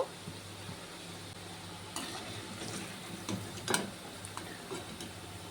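Fried sweets are lifted out of hot oil in a pan, with soft sizzling under light scraping and utensil clicks, a few sharper taps standing out near the end.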